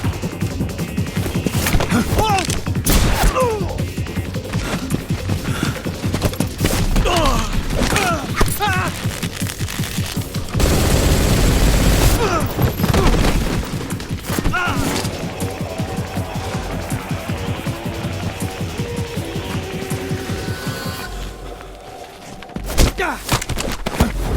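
Gunfire and impacts in the stealth action game Metal Gear Solid Delta: Snake Eater, dense bursts and thwacks running loud through the scene amid game music and effects, with voices calling out over the shooting.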